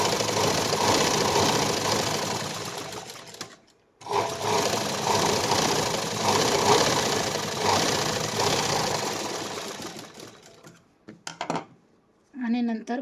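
A sewing machine stitches a patch onto a blouse sleeve with a loud, continuous mechanical whir. The whir pauses briefly around four seconds, then stops near the end with a few short bursts and handling clatter.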